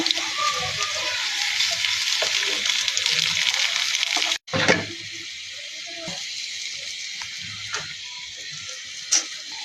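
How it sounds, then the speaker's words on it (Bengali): Chopped onion frying lightly in oil with ginger-garlic paste, a steady close sizzle throughout, briefly broken by a sharp dip and clatter midway, then settling into a quieter hiss with occasional stirring scrapes. "পেঁয়াজটা আমি হালকা করে ভেজে নিব, একেবারে হালকা ভেজে নিব। এখন দিয়ে দিব আদা রসুন বাটা"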